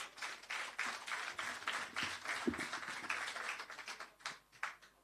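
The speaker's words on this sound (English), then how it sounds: "clap yourselves, please" At a handing over ceremony for a shelter recovery roof grants programme, the gathered beneficiaries and guests applaud, a dense run of quick overlapping claps heard from a distance and fairly quiet throughout.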